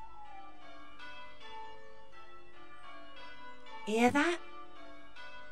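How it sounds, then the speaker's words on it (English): Church bells, the Bow Bells, ring in a pantomime scene with steady, evenly spaced resonant strikes that sustain and overlap, and a single voice briefly speaks over them near the end. "No, the bow bells."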